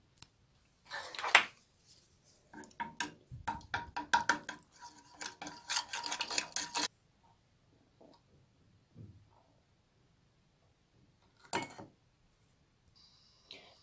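Pancake batter stirred in a bowl with a utensil: a run of quick, clattering scrapes and knocks for several seconds, then quiet with a few isolated clinks.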